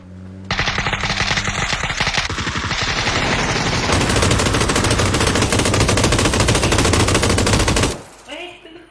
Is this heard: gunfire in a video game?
yes